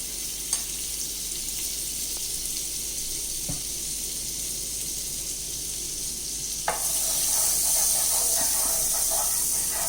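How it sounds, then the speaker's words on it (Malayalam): Butter melts in a hot pan for a burger bun snack, a steady close hiss and sizzle that grows brighter and louder partway through, with a few small clicks. "പാൻ ചൂടായിട്ടുണ്ട്. നമുക്കതിലേക്ക് കുറച്ച് ബട്ടർ ഇട്ട് കൊടുക്കാം."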